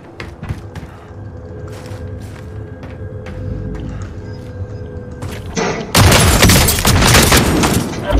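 Gunfire in the gulag arena of the Warzone video game: scattered shots and thuds under low rumble, then a loud, dense burst of rapid firing near the end.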